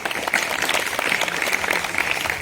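Audience applause at an Independence Day valediction function in India, a steady wash of many hands clapping close by, moderately loud and continuous, with faint voices underneath.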